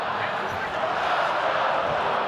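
A stadium crowd at an NRL rugby league match between the Newcastle Knights and New Zealand Warriors sings, heard as a broad, steady roar of massed voices filling the arena, somewhat distant and continuous.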